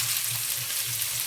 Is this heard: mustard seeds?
yes